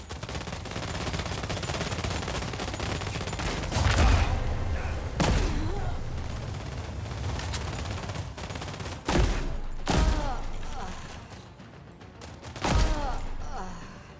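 Sustained automatic gunfire fills a battle in The Expanse: Osiris Reborn, loud and nearly unbroken, punctuated by several heavy impacts and bursts, with soldiers' voices calling out over the shooting.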